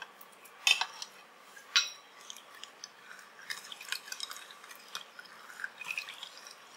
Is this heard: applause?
no